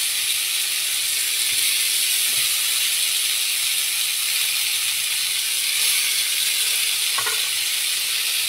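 Bean sprouts frying in butter in a pan, a steady close hiss and sizzle that holds evenly throughout, with a faint clink or two of utensils.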